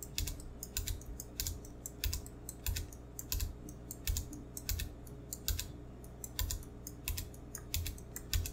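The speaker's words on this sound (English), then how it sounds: "You can just click them and press delete on the keyboard to get rid of them." Steady typing on a computer keyboard, quick clicky keystrokes in irregular bursts, fairly quiet and close, with no voices.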